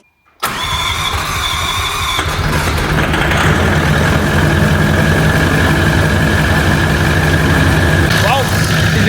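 A large 1979 truck engine cranks and catches, then settles into a steady rumbling idle nearby, loud and continuous with a faint tapping in the mix.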